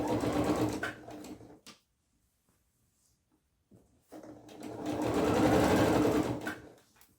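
A sewing machine stitching trouser canvas runs in two loud, steady bursts of fast whirring separated by a few seconds of near silence, close up, with no talk.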